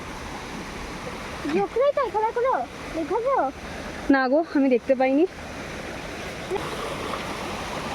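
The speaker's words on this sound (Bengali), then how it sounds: "ছোট্ট একটা ঝর্ণা, ঝর্ণাই দেখা যাচ্ছে না, ঝর্ণা জলটা জাস্ট আসছে" Continuous rush of a small waterfall stream at Rishihat, North Bengal runs throughout, with people talking over it in the middle.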